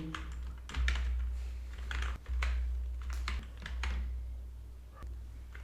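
Someone types SQL code on a computer keyboard with a steady patter of close, clear keystrokes in irregular bursts, over a low background hum with no talking.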